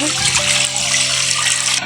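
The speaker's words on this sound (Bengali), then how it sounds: "পানি দিয়ে দিব" Water pours steadily into a pot on a village stove for cooking noodles, a loud continuous gush lasting under two seconds before stopping abruptly.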